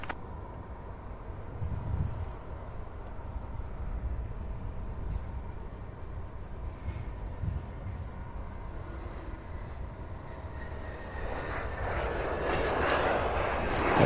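Delta CRJ 900 regional jet, about fourteen years old, arriving from LaGuardia in New York, heard as a steady distant engine rumble and whine that swells louder toward the end.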